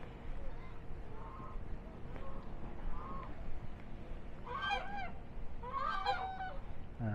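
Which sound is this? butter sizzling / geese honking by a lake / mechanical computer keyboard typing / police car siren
geese honking by a lake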